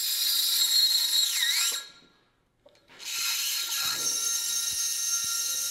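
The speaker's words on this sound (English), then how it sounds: "we need to poke the oil hole in the top and cut our groove before going to install it" Machining an oil groove into a power hammer bushing, a loud continuous high-pitched grinding whine that stops briefly, then resumes with scraping and a few light clinks, no talk.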